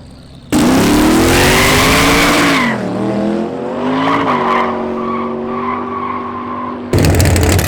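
Chevrolet Malibu race car on its first test run at a legal street race, a loud roaring launch with screeching tires, the engine pitch climbing through gears and fading, then another burst of noise at the end.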